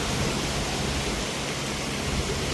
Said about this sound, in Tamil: இதுக்குள்ளே வேகமாக தண்ணி வந்து கொண்டே இருக்குது